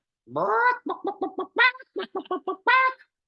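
A human voice imitates a hen clucking: one drawn-out squawk, then quick rhythmic clucks with two more longer squawks among them, close and clear with no other sound.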